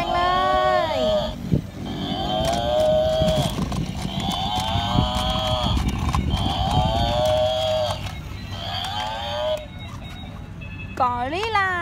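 Toy animal figures give repeated electronic moo-like calls, a cow or buffalo sound, several times in a row, loud and close, with someone talking over and between the calls.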